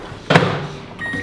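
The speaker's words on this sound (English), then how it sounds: "I microwave it for like 30 seconds" Microwave oven heating cream of rice: a short burst of the running hum begins after a brief click, close and fairly loud, ending with a faint high tone.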